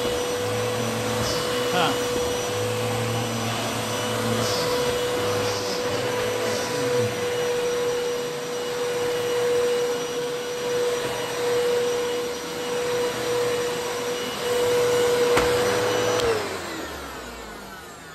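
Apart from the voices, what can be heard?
Eureka Clean Living 3281 vacuum cleaner running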